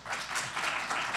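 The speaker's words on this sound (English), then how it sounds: "Let's give them a big, huge round of applause." Sustained applause from a live audience at an Albuquerque mayoral candidate forum, an even wash of many hands clapping with no single claps standing out.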